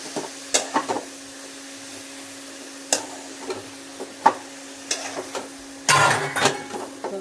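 Spices are stirred into vegetables in a cooking pan, with scattered soft scrapes and light clinks of a utensil against the pan over a steady low hum, including a brief busier stretch of scraping near the end.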